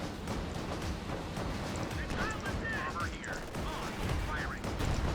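Repeated cannon and gunfire from an M36 Jackson tank destroyer in the Company of Heroes 2 battle game, a dense run of booms and shots over continuous battlefield noise with someone talking throughout.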